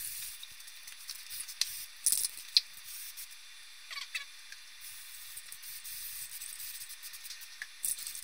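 White undercoat paint is sprayed onto a helmet in faint, intermittent hissing bursts over a quiet background, with short sputtering pulses between the gaps.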